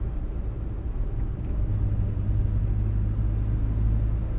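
Steady low engine rumble and road drone from inside a 1962 Morris Minor on the move, continuous and fairly loud with a slight lift in pitch partway through, no voices.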